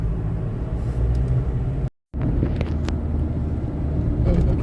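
A car driving close behind fire trucks heading to a fire near a farm gives a steady, loud low rumble of engine and road noise, broken once by a brief silent gap.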